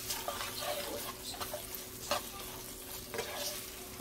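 Onions and bell peppers sizzling in a frying pan for chicken spaghetti, with soft repeated stirring scrapes and clinks over a continuous fry, close and fairly quiet, no voices.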